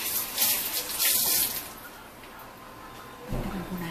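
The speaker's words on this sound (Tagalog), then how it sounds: "Dadagdagan po natin yung tubig." Water is poured into a cooking pot while making sinaing na tulingan, a running splashing stream that swells, eases, then ends with a brief clunk, with a voice faintly in the background.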